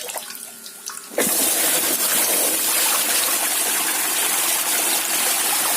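Water gushes loudly and steadily from a tap into a urea fertilizer bag to dissolve it, starting abruptly after a quiet moment and running continuously.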